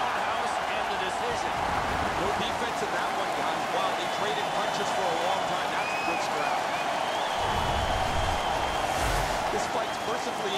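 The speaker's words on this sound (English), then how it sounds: "The home crowd is ecstatic. They're making all kinds of noise." A roaring video game hockey arena crowd cheers continuously during a fight, loud and dense, with swelling bursts of noise and a commentator's voice running over it, in NHL 15.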